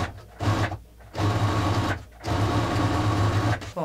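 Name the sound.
Singer Legacy C440 sewing machine sewing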